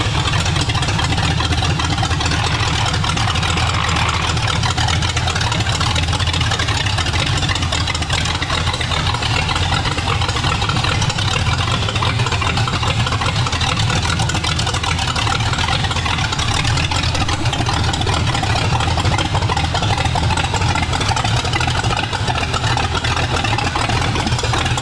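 Hillbilly's Broncstar, a custom off-road build, runs steadily at a low rumble from start to finish, with a continuous mid-pitched engine drone and no speech or pauses.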